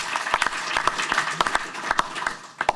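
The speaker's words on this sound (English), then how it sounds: "Let's give him a round of applause." Applause from a small audience at a convening of Los Angeles County mayors, a modest scattering of distinct claps, moderately loud and fairly near, uneven in rhythm and tapering off.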